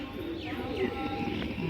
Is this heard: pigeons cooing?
yes